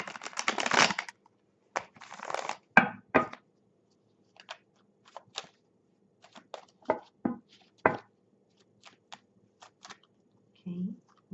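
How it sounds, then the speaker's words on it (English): Tarot cards being shuffled by hand during a reading, giving soft riffling and tapping bursts that come and go in short clusters, close up and fairly quiet, with pauses between. "Just feel like to shuffle a little bit more."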